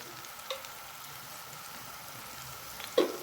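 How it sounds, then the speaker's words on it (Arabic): Two garlic cloves frying in oil with dried coriander for Egyptian lentil soup, a soft steady sizzle throughout with two faint clicks, one early and one near the end. "وحطينا كمان فصين توم وهنطشهم على العدس مع شويه كزبره ناشفه، هنحطهم نحمرهم معاها كده"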